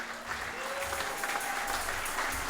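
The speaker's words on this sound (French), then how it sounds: "j'aimerais qu'on applaudisse tous ceux qui ont organisé" Moderate applause from an audience at a church worship service closing a congress, a steady continuous patter of many hands heard from a little distance, with a faint voice or tone beneath.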